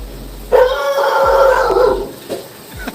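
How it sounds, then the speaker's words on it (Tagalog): A dog barks and growls angrily in a short, loud, close burst, its howling yelp rising and then trailing off. "Nagalit yung aso."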